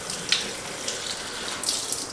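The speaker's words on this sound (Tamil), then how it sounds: "கொஞ்சம் தண்ணி பிடிச்சிக்கலாம்." Tap water runs into a water can, a steady gushing hiss with small splashing surges, close and alone without talk.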